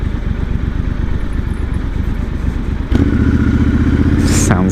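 A 1200cc Triumph Scrambler motorcycle engine chugs with a rapid, loud pulsing beat, then shifts abruptly into a stronger, higher throb as it revs, close to the listener.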